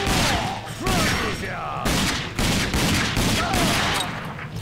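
Gunfire in the shooter game RAGE, a burst of sharp loud shots in an uneven rapid string, with several clustered reports and brief gaps, close and dominant with a voice faintly underneath.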